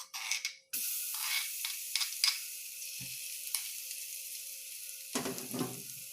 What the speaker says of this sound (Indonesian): kita tumis bawang dan kemiri yang telah dihaluskan